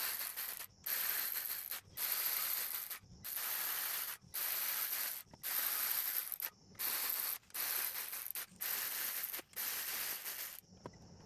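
A ratchet torques the bolts on the engine cams of a 2007 Subaru STI EJ25 engine rebuild, clicking in about ten steady runs of rapid close pawl clicks with brief pauses between strokes.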